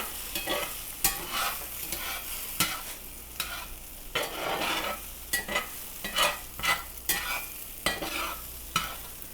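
Eggs folded and stirred in a frying pan with a spatula, a soft sizzle under repeated scraping strokes, fairly quiet and close.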